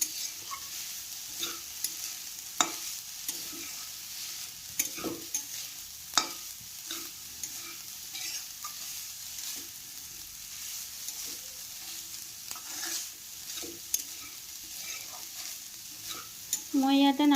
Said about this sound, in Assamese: মই ইয়াত নাৰিকলখিনি ভাজি ল'ম।